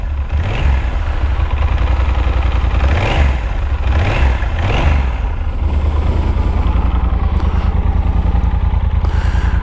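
A Yamaha 1200 Super Tenere's cross-plane engine thrums loudly with a deep, uneven pulse, revving up and easing off as it rides along the road, close by.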